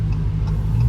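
A Dodge Challenger Scat Pack on bald tires in cold weather makes a loud, low engine rumble with a pulsing throb as the wheels spin, heard close up and alone.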